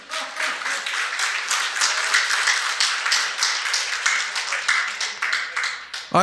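An audience claps in a steady, fairly moderate burst that stays even for several seconds, with scattered individual claps standing out, in a hall during a lecture on surviving the digital age.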